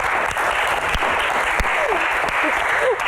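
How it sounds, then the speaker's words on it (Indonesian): Steady applause from a studio audience at a stage Q&A show, dense and continuous clapping throughout with faint voices and a few brief whoops mixed in. "Tepuk tangan dong."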